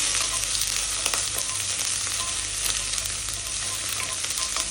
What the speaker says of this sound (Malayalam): എണ്ണ ചൂടാകുമ്പോൾ നമ്മൾ ആദ്യം വെല്ലുള്ളി ഇടും എന്നിട്ട് വെല്ലുള്ളി ഒന്ന് സോഫ്റ്റ് ആകുന്നവരെ അത് സോട്ട് ചെയ്യും